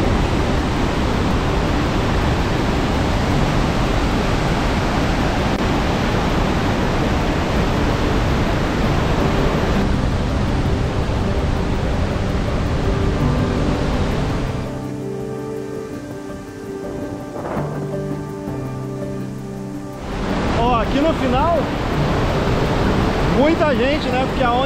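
Iguaçu Falls pours as a loud, steady roar of heavy falling water, a dense wash that dips briefly in the middle and then comes back.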